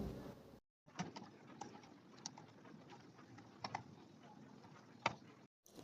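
Quiet, irregular clicks of typing on a computer keyboard while entering currency details in Tally Prime accounting software, with scattered sharper key taps over a low background hiss and no talk.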